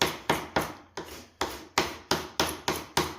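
A glue scraper scrapes dried glue off a wooden Shaker door in about ten firm, evenly spaced strokes, each a loud, close rasp that fades quickly, with no talking.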